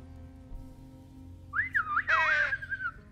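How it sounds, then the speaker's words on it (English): A whistle blown in a point-and-click video game, sounding as a few bright rising and falling toots over a faint background hum, close and alone with no talk. "I'm gonna use my whistle to harass this tree."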